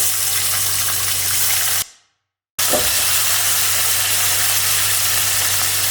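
Sliced onions frying with whole spices such as cloves in a pan over a medium flame, a steady broadband sizzle and hiss with a low hum, broken by a brief silent gap, then continuing near and loud.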